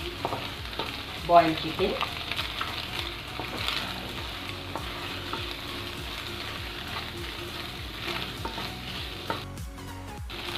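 Green chili, ginger and garlic stir-fry in a hot pan, a steady sizzle with scraping stirs running throughout at moderate volume; a brief spoken phrase breaks in near the start.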